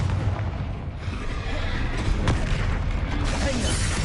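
Spell blasts from Confringo and Bombarda in Hogwarts Legacy on PS5 land as heavy, booming explosions that overlap in a dense, loud barrage, with a player's voice calling out over the noise.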